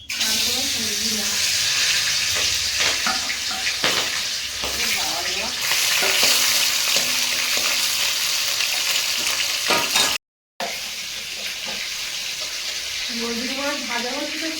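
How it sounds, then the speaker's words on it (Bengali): River fish fry in a pan with a constant loud sizzle and occasional stirring scrapes, while running tap water and voices talking come and go around it. "নদীর মাছ ভাজা হচ্ছে তো সেন্টটাই আলাদা"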